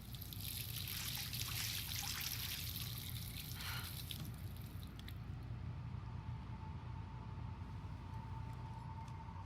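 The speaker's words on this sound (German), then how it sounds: "Gehen wir uns mal hier das Wasser durchs Gesicht spülen." Water splashing and trickling at a sink as a character rinses their face in the game Life is Strange, a steady close wash of running water that thins out partway through.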